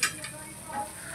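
Green chillies frying with salt in a pan for Maharashtrian thecha, a brief faint sizzle with a spoon scraping through them, close and without voices.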